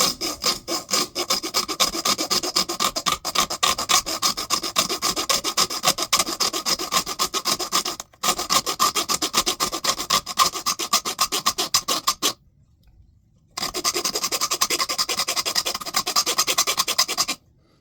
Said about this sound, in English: a hacksaw blade or a hobby saw, something that's capable of cutting through the aluminum